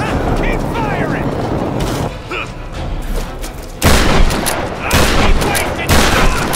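Gunfire during a Tomb Raider fight comes as loud, dense volleys of shots and booming impacts in several bursts, with voices talking over the combat.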